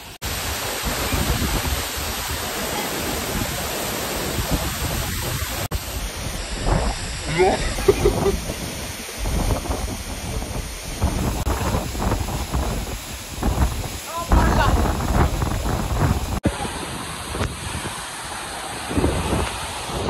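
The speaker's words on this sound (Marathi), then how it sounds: "सवसडा धबधबा आणि आम्ही आज सवसड्याच्या आतमध्ये." Steady, heavy roar of the Savsada waterfall heard from up close inside the falls, a dense wash of rushing, crashing water that stays loud throughout, with brief murmurs of people talking underneath.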